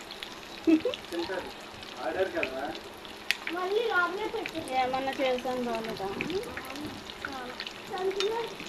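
Chicken pakoda pieces crackle in hot oil until golden brown, a close, steady bubbling sizzle with occasional spatters that continues under a woman's speech.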